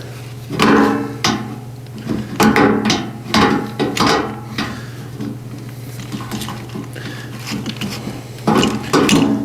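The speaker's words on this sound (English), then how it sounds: "I got a crescent wrench here" Crescent wrench tightening a bolt while assembling a two-burner outdoor propane stove, heard as a series of loud metallic clanks and scrapes in irregular bursts over a steady low hum.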